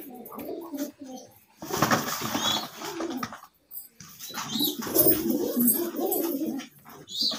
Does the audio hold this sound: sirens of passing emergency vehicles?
no